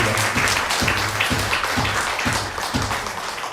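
A church congregation at a Korean Sunday service breaks into sustained applause, dense clapping filling the room steadily for several seconds.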